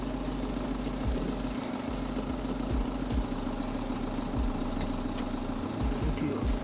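A car engine idles close by with a steady low rumble, and occasional low thumps and bumps sit over the hum.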